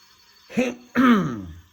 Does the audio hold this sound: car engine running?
no